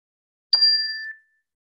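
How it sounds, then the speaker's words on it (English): A mindfulness bell for a gentle chair yoga class strikes once, a clear bright ding that rings close and alone, then fades out within about a second into silence. "please listen into the sound of a bell to remind us to come to this moment right now"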